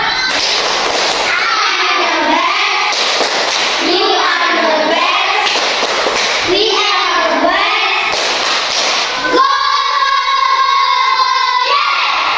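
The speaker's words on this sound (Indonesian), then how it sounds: "Oke, tepuk semangat dulu." Classroom of fourth-grade children doing a rhythmic tepuk semangat clapping cheer, bursts of claps and chanting voices in a repeating pattern, loud and close, ending with a sustained sung tone.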